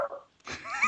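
A person's voice imitating the dog-like Pokemon Growlithe, a short growly whine followed by a higher yelping tone, close and fairly quiet.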